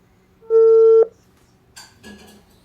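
A single long telephone ring tone sounds clearly for about half a second, followed by faint clicks and line noise as a call is placed.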